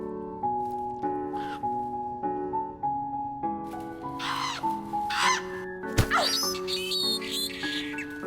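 A crow caws repeatedly in a forest scene from a Finnish horror film, harsh calls over a sustained musical score, ending with a sharp loud crack.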